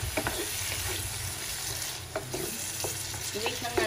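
Bitter gourd sautéed with pork and beaten egg is stirred in a sizzling pan, giving steady frying hiss with repeated scraping and clattering strokes of the utensil, close and fairly loud, with no talking.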